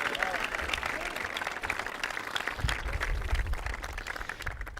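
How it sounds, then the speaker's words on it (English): A large crowd applauds steadily at a high school graduation ceremony, the clapping dense and sustained throughout with a faint murmur of voices beneath. "a huge round of applause"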